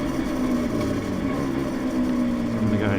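A Yamaha TZR 250 3XV two-stroke motorcycle, freshly rebuilt, runs at an unsteady idle with a low droning hum and a slight swell near the end, heard close and alone.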